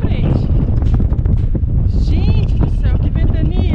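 Strong wind gusting across an exposed walkway at 3,000 m altitude in the Swiss glacier mountains, loud rumbling buffeting on the microphone throughout, with people talking and exclaiming over it.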